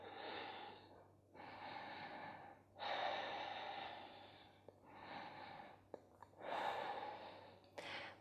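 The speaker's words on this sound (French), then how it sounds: "5 cycles de respiration Ujjayi" Slow, audible Ujjayi breaths during a yoga session, five long hissing inhales and exhales with short pauses between, close and soft.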